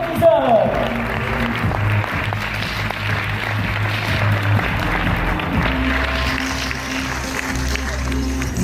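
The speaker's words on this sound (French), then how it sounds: "Je vous demande un tonnerre d'applaudissements pour Salman l'hypnotiseur." Audience applause for a hypnotist at a magic gala show, sustained clapping from a crowd lasting several seconds, with a voice talking over the start.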